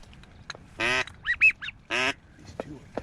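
Pintail ducks give several nasal quacks and short calls outdoors during a duck hunt in California, with two louder raspy quacks and softer chirping calls in between, fairly close.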